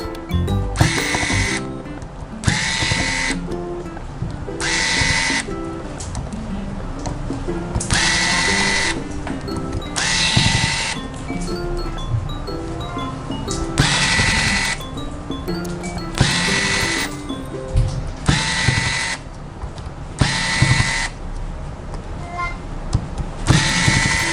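Small Phillips screws being removed from the back cover of an Oppo A53 phone with a power screwdriver. It makes repeated short whirring bursts of about a second each, separated by pauses, close up and with no talk.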